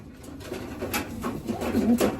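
Racing pigeon at a one-loft race giving a soft, low coo, close by, over faint background noise and rustling.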